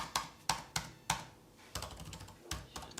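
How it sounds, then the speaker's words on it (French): Quiet, crisp clicks of CHUWI GemiBook laptop keys being pressed one at a time, a few taps with short pauses, then a quicker cluster of keystrokes. "Très souple, vraiment très très bon clavier."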